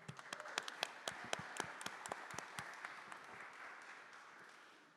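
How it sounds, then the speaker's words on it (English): An audience at a community conference claps in a round of applause, sharp and moderately close at first, then thinning and fading toward the end. No one speaks. "Some rounds of applause."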